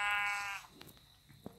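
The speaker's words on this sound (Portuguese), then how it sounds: "Olha que sorte, uma ovelha." A blocky sheep in Minecraft gives one clear, close bleat at the start, followed by faint scattered game sounds and soft clicks.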